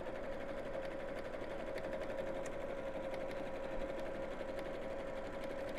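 A sewing machine runs steadily, stitching straight lines on a fabric bag, with a continuous even hum and rapid needle chatter at moderate level throughout, no talking.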